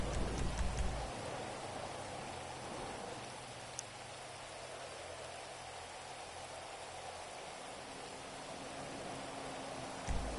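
Steady hiss of heavy rainfall in GTA V, broadband and constant, with a faint low rumble underneath and no voices.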